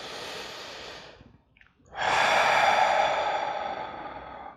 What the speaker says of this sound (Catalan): I ara agafa una respiració profunda.